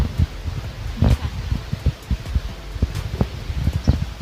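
Gusty wind buffets the microphone outdoors on the way into a hospital medical centre, rustling leaves and blowing dirt in low rumbling bursts, fairly loud and steady with sharper gusts, no voices.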